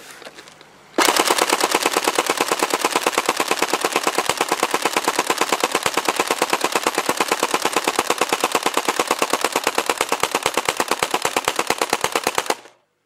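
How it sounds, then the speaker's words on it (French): A Tokyo Marui AA12 airsoft shotgun with a drum magazine fires one long unbroken full-auto burst of about eleven seconds, rapid sharp mechanical cracks at an even rate, close and loud, then stops abruptly. "je vais faire une longue rafale jusqu'à ce que ça s'arrête de tirer"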